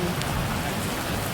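Heavy rain pours steadily during a cycle ride in Andhra, a dense, even hiss of drops striking surfaces all around, loud and unbroken.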